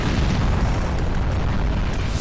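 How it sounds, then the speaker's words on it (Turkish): A loud, deep bomb explosion in the video game Point Blank fills the whole moment, a sustained booming roar with no voices over it. "Bomba patladı."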